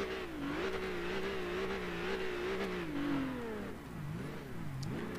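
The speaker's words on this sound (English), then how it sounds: "The sound this car makes." A car engine in the racing game Gran Turismo 6 revs steadily with a droning, rising and falling pitch, then dips and climbs again in quick throttle blips, loud and continuous with no talk.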